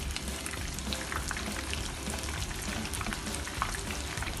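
Chicken pieces for chili fries sizzle and bubble steadily in hot frying oil as they turn golden, a dense continuous crackle heard up close with no talk.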